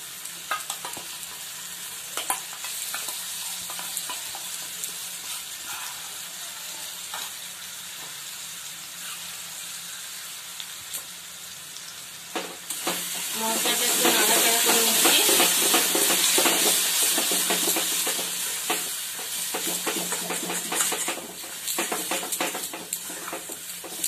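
A ground spice paste goes into hot oil on a medium gas flame while egg curry (dim bhuna) is being cooked. Soft background stirring gives way to a loud, close, sustained sizzle and hiss once the paste hits the pan.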